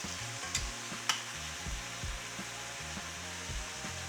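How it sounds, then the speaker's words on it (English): Chunks of beef browning in a Dutch oven for stew give a steady, close sizzle with low rumbling bubbling, broken by two sharp clinks of a utensil against the pot. "So I'm gonna brown this beef first."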